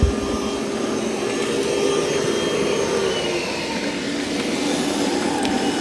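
A robot vacuum, compared between the Dreame L40 Ultra and Roborock Q Revo Curv, boosts its suction power on carpet, giving a loud, steady, close whooshing roar that holds for several seconds with no talking.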